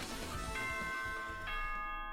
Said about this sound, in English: The final bell tolls for us here.